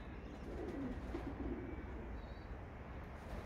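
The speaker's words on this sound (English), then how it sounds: "right on time, some of the flying birds are back" Homing pigeons returning to their loft, soft cooing in the foreground over a faint, steady outdoor hiss.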